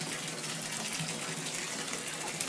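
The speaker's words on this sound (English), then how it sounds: "I'm going to start the water and start crumbling in my bubble bar." Tap water pouring into a bathtub, a continuous close, even gush of running water with no breaks and no voices.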